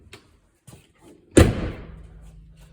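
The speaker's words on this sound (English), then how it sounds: "shut the door." A few soft knocks and a light rattle lead into one sharp, close slam as the door of a 2008 Montana 325RLT travel trailer shuts, followed by a brief fading rattle.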